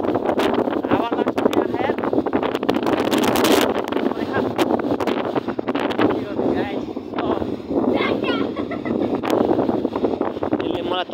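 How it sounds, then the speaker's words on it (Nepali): Strong mountain wind at Kagbeni in Mustang, Nepal, roars and buffets the microphone in a continuous, gusty rush, with a voice faintly mixed into the noise. "हावा चाहिँ खतरा हो क्या फेरि।"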